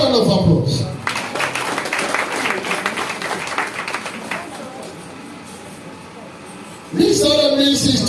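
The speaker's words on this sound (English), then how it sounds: "Please, a better round of applause." A wedding crowd in Arochukwu, Abia State, Nigeria applauds guests, with loud, dense clapping building after a brief opening voice and running for several seconds before fading into a lull, then voices return near the end.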